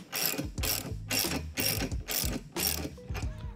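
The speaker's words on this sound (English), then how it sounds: "unscrew your jack bolts." A ratchet wrench backs out the jack bolts on an SMP Valve Out Tool for a flanged valve, giving six loud, close bursts of rapid clicking with short pauses between them and no talk.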